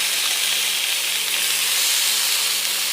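Banana flower sautéing in a hot pan for a South Indian kootu, giving a steady, continuous sizzling hiss with a faint low hum under it, close and even throughout with no talking.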